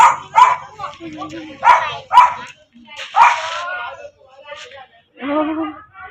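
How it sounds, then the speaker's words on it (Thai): Several small dogs in a village bark and yip in short, repeated bursts close by, with sharp, high calls separated by brief pauses and a whining tone near the end. "ตัวเล็กๆ บางอาจเห่าเจ๊อ้วนของเรานะคะ"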